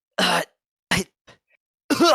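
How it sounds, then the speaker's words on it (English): Three harsh coughs, close and fairly loud, separated by short gaps, with a faint rasp between them. "he coughs up a bit of blood"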